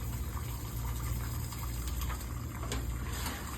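Water runs steadily from a tap, rinsing a suction tool being cleaned after scrubbing, a continuous even gush with faint knocks and no talking.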